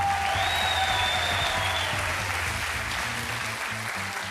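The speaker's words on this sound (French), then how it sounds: "On l'applaudit." An audience applauds steadily on France's Got Talent, a dense, sustained clapping wash that fades slightly, while a brief high tone sounds above it.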